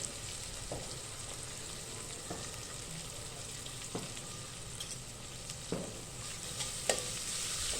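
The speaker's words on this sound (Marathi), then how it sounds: "आता आपल्याला कांदा टाकायचा आहे।" Chopped onion frying and being stirred in a pan with grated ginger and chillies for masale bhaat, a steady close sizzle with occasional soft scrapes of the spoon, no voices.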